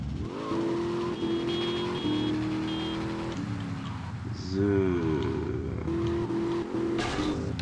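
A sports car in GTA Vice City drives with a sustained engine drone whose pitch rises and falls through gear changes and revs, loud and steady, with a sharper revving surge near the middle.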